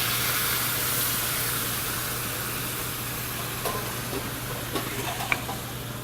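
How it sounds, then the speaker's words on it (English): Veal stock poured into a pan of sizzling pork belly, giving a loud, dense hiss that holds steady and then eases slightly, with a few small pops and clinks near the end and no voices. "At this point, we'll add a little bit of veal stock."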